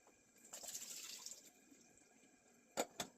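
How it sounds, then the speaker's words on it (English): Liquid from canned olives pouring and splashing into a sink, a short running trickle followed by two distinct drips or splats, close and alone. "let's drain the olives"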